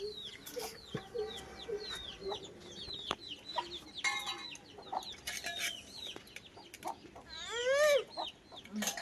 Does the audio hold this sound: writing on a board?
no